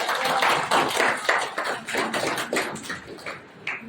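An audience claps together in a hall during a five-day PROUT training camp in Patna, a steady rhythmic applause of evenly spaced claps that gradually grows fainter, with no talking over it.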